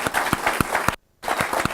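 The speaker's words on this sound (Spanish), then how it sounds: "Un aplauso, pero estruendoso," An audience at a legal conference on a draft abortion law claps in quick, sharp, steady bursts, then falls briefly silent and resumes, close and fairly loud.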